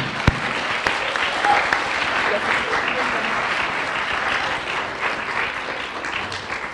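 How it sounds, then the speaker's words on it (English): An awards-ceremony audience claps steadily in a sustained round of applause, dense and even throughout, starting right after a sharp opening clap. "So please give a round of applause to these lovely humans."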